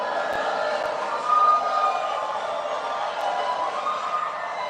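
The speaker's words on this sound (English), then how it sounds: "Please do not applaud." A debate audience applauding and cheering, a dense, steady wash of clapping and crowd noise that swells briefly midway and stays fairly loud throughout.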